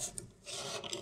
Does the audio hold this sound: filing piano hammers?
yes